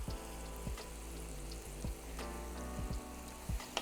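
Seasoned onions caramelize in a pan. A quiet, close sizzle runs under a low hum, broken by a few soft scrapes of stirring.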